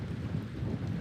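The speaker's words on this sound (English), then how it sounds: "Rain." Rain falls outdoors on a windy hiking trail by the shore on the Isle of Skye. A faint, steady hiss mixes with low wind rumble in a brief moment.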